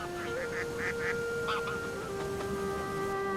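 Migratory waterbirds at a lake call in short, honking bursts, several quick cries in a row over a steady background hum, moderately distant and fairly faint.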